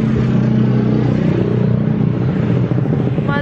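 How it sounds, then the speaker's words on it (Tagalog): Motorcycles passing along a street outside a gate, a loud, steady engine drone with rumbling low tones that shifts as the machines ride by nearby. "Mga dumadaan na motor"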